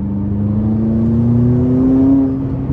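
A tuned 664 hp McLaren 570S with turbos, its engine note a loud, smooth rising drone as it accelerates close up, steady and without speech.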